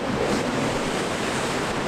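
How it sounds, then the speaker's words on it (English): Rough sea waves break and foam against rocks close by on a November ferry crossing in Spain, a loud continuous roar of surf mixed with wind buffeting the microphone. "The waves are breaking against these rocks behind me."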